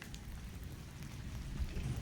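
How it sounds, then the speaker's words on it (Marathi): Steady rain falling, a continuous soft hiss and patter with a low rumble underneath, fairly distant and without voices. "पाऊस कसा सुरू आहे"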